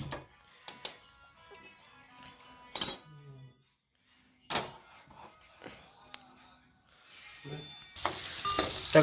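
Garlic and chili fry in a pan, with intermittent clinks of a utensil stirring and a burst of sizzling that swells near the end, while a voice speaks quietly at points.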